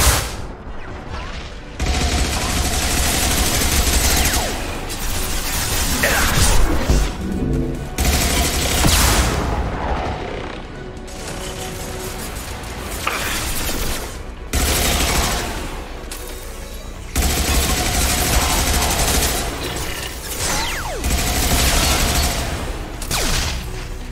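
In the video game Mass Effect 2, a hacked turret spits sustained, loud streams of rapid fire broken by short pauses, layered over a thick din of combat with no voices present.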